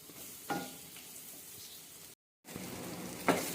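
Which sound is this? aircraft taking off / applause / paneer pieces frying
paneer pieces frying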